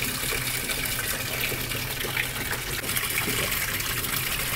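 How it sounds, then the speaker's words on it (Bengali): Water gushes steadily into a new washing machine at home, a continuous close rushing and splashing with no breaks. "চালু হয়ে গেছে মেশিন, আমাদের নতুন ওয়াশিং মেশিন চালু"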